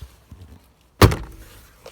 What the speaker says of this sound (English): again give it a bit of a thump